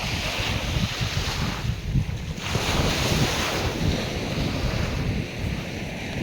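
Ocean surf pounds Calangute beach in Goa, a loud continuous wash of breaking waves with wind rumbling across the microphone and swells rising and falling every couple of seconds.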